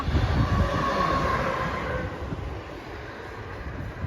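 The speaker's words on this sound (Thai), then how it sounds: "เอาเอารถไฟวิ่งมาแล้วนะจ๊ะนะจ๊ะ" A train rumbles past close by on a railway bridge overhead, a steady heavy roar of wheels on rails that slowly fades, with no talking.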